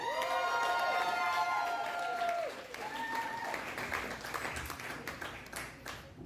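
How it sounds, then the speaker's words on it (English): A comedy club audience cheers and applauds a comedian coming on stage, with loud whoops and shouted voices at first, then dense clapping that carries on under scattered calls. "Don't stop clapping."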